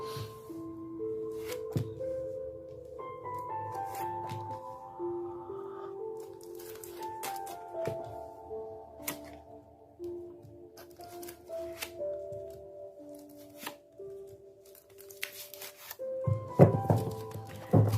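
Tarot cards are shuffled and handled by hand, soft riffling and slapping in irregular bursts over a bed of gentle background music, with a louder flurry of card noise near the end.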